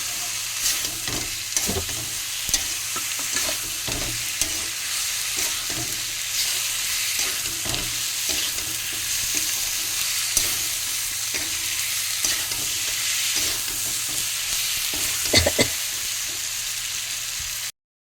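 Fish and potato pieces frying in oil for a Bengali chochchori, a loud continuous sizzle with irregular spatula stirs and scrapes against the pan throughout, no voices.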